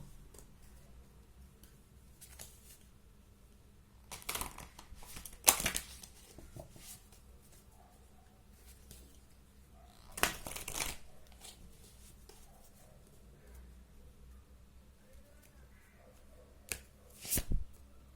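Tarot cards are shuffled and drawn in a quiet room during a reading, with a few short, crisp bursts of card riffling and snapping separated by long near-silent gaps.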